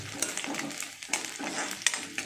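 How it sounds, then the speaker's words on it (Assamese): Onions frying in a pan, a continuous close sizzle with repeated quick scrapes and clinks of a stirring utensil at an uneven pace, no voices. "পিঁয়াজ ভাজি আছে।"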